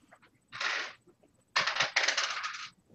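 Dice being rolled for initiative in a tabletop game, two bursts of clattering on a hard surface, the second longer with several bouncing rattles, close and fairly loud.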